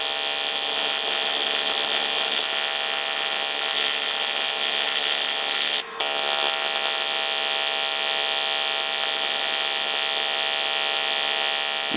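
An AC/DC TIG welder, a Longevity Innovator 255i, holds a steady electric buzzing arc at a hotter setting, loud and close, an unbroken harsh drone with one brief dropout midway and no talking.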